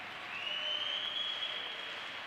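Crowd at a high school hockey game applauding a North Catholic goalie who is back on his feet after an injury, a steady broad wash of clapping that swells slightly and holds, with no talk over it.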